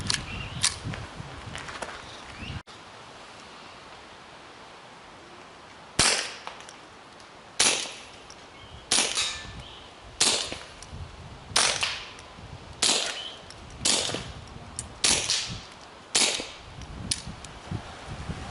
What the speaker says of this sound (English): put a couple rounds on the steel targets so you can hear how quiet this gun actually is